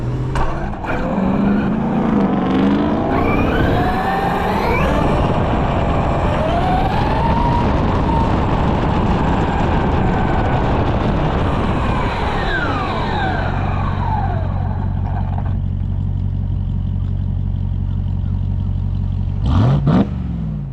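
Loud, continuous engine roar and revving as a 2023 Traxxas XRT RC truck races a 2023 Dodge Ram Havoc Edition pickup on a public road, pitch sweeping up and down as they accelerate, ending in a sharp high whine.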